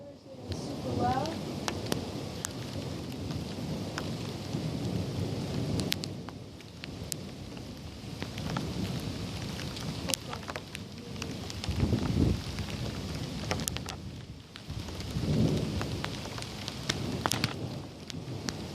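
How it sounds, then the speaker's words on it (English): Heavy rain pours steadily in a worsening summer thunderstorm, with low thunder rumbles swelling twice in the latter half over the constant hiss of the downpour. "As you can see, storm is getting much worse."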